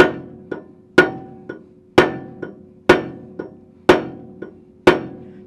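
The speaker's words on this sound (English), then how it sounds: "I'll just use a rubber mallet to drive it home" A rubber mallet drives a CV joint part home on a Toyota LandCruiser Hilux knuckle, six firm evenly spaced blows about a second apart, each with a lighter rebound tap between, close and clear with no talk.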